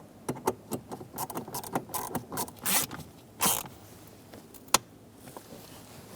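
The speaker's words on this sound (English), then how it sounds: "Snug the screws down." Screws being snugged down on the HVAC mode door actuator of a 2014-2018 Chevrolet Silverado 1500, a run of short, close clicks and scrapes from a hand tool, mostly quiet with a few sharper ticks and no talking.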